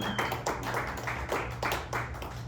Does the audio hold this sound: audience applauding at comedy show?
yes